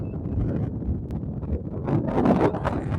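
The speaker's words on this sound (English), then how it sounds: "Oh yeah, it's really windy." Strong wind roars steadily across an external microphone beside open water where pelicans and ducks gather, a continuous buffeting rumble that swells louder toward the end.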